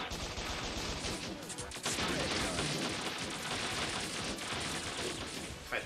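Dense, continuous volleys of enemy gunfire in the bullet-hell shooter game Bot Vice, loud and sustained with a sharper burst near the two-second mark and a faint voice underneath.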